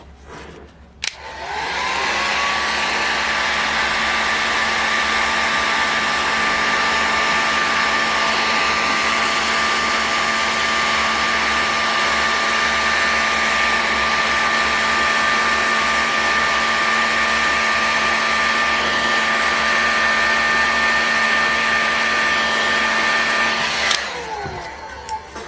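Heat gun heating a Magnum XL 70 RFS model engine part to free the piston pin, a loud, steady blowing whine that starts abruptly, holds an even tone for about twenty seconds, then clicks off.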